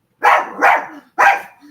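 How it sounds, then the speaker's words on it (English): A dog barks three times in quick succession, loud and close, with short gaps between the barks and no talk over them. "that my dog was going to bark."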